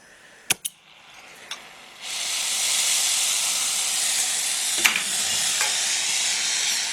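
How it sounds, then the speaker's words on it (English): A torch hisses steadily while a copper tank seam is soldered with 50-50 solder. A few sharp taps come first, then the close hiss carries on to the end. "you'll see how this solders up."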